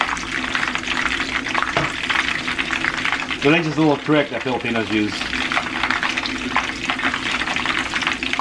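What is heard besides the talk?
oil bubbling while heating for frying lumpia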